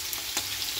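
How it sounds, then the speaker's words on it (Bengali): Fish frying in a pan while vegetables are fried nearby, a steady hiss of sizzling oil at moderate level with one brief louder crackle, no voices. "আর এখানে মাছ ভাজা হচ্ছে আমার।"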